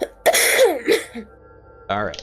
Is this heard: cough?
yes